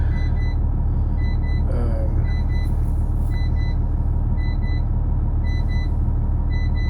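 A Prevost bus engine idles steadily during a cold storm, a loud constant low rumble with a faint brief squeak partway through and light ticking overhead, no speech.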